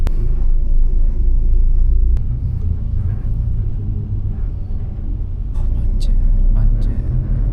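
Cars stuck in a road traffic jam on a commute between Bogor and Cibitung, with a continuous low engine rumble heard from inside a vehicle, steady and loud, with a few faint clicks and knocks.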